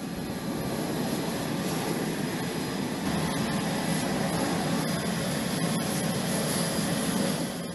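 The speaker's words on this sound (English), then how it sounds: "It's the world's first aircraft carrier-based unmanned aircraft." Carrier-based unmanned stealth drone aircraft flying, a steady, loud broadband jet roar that holds constant throughout with no talking.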